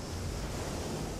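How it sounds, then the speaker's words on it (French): Seawater crashes over the deck of a Vendée Globe racing sailboat at sea, a continuous broadband roar and hiss of rushing water and wind that stays loud and steady throughout, with no voices. "On peut entendre l'eau qui se fracasse sur le pont."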